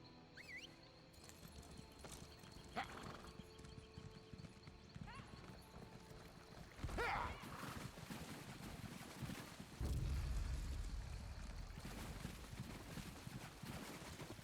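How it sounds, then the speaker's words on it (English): Hooves clip-clop steadily as a horse moves through a town in The Elder Scrolls game, with whinnies and neighs rising above them, mixed with game voices and ambient sounds. "Horse coming through, watch yourselves"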